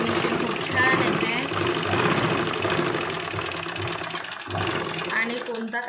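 A sewing machine topstitches a blouse strip, its motor whirring steadily and close with a busy mechanical chatter that eases briefly near the end before running on.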